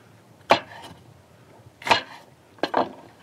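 A knife chops through ingredients for seafood kebabs on a cutting board, three distinct close thuds spaced roughly a second apart, with no talking between them.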